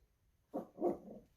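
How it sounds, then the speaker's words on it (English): A couple of quick, muffled dog barks from indoors somewhere in the distance, faint and short, with quiet room tone around them. "Shush, doggies. The doggies can see them out the window there."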